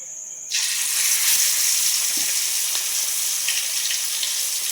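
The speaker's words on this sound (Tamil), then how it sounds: "எண்ணெய் ஊற்றிருக்கோம் கடாயில். ஃப்ரெண்ட்ஸ், கடாயில் மீனை போட்டுக்கலாம்" Fresh well fish drops into hot oil in a kadai, and after a moment of quiet a sudden loud sizzle bursts up and carries on as a dense, steady hiss.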